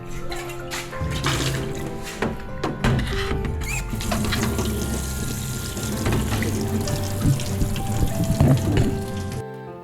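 Hot water streams from a thermos, a continuous splashing, gurgling pour close by with small clinks and handling sounds mixed in.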